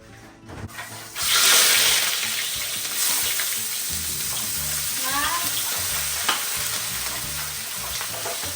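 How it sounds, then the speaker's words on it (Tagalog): Onion and garlic hit hot oil in a pan, bursting into a loud, close sizzle that settles into a steady crackling fry, with faint clinks of stirring. "Gigisa na po natin yung sibuyas at syempre, sasabay na natin yan yung bawang."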